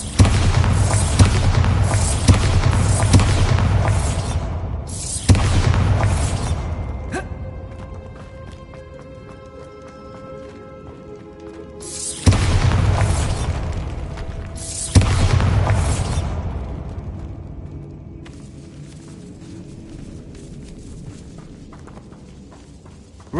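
Exploding-spell blasts in the Hogwarts Legacy video game, four loud booming impacts, each with a long, decaying rumble and debris, the first two close together and the last two coming after a quieter stretch.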